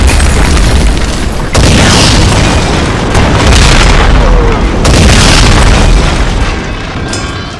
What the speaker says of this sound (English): Oh shit, that's a bomb!